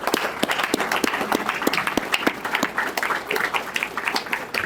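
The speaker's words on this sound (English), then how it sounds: "I feel like we need to give these guys a round of applause." An audience at a rodeo hall of fame ceremony claps for sponsors from Intermountain Health, a lively spread of individual claps with distinct sharp hits, moderately close and steady.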